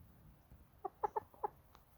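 Chickens on a rainy day give four quick, soft clucks close together, with a brief pause between each, over quiet background hiss.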